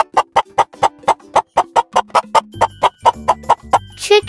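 Chicken clucking in a steady rapid series of close, loud clucks, about twenty in a row, ending in a higher squawk, with no talk.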